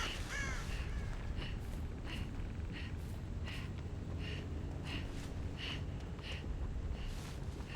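Crows caw repeatedly in the horror game Dead by Daylight, a series of harsh calls spaced through steady dense game ambience, fairly close and moderately loud.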